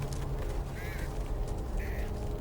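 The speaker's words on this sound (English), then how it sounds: "Birds!" Crows caw twice in the video game Back 4 Blood, short raspy calls heard over a steady low hum of game ambience, moderately distant.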